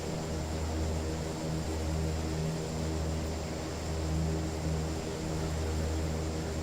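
A simulated aircraft engine at full throttle in the Prepar3D v5 flight simulator gives a constant loud droning hum with a steady pulsing tone and broad hiss, unchanging throughout and with no talk.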